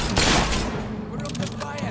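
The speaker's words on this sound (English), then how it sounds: "We're under fire." Burst of gunfire in the video game Fable 3, a loud cluster of rapid shots at the start followed by scattered fainter reports, with a voice partly overlapping.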